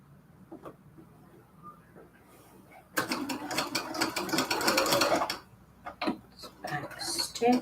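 A sewing machine stitches quilt curtains, starting up after a quiet stretch with a steady, close mechanical whir and ticking, then slowing and pausing in short bursts.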